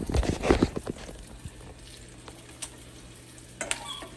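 Bacon frying in a pan, a steady low sizzle beneath a few clattering stirs and utensil scrapes near the start, then quieter hissing with an occasional tap.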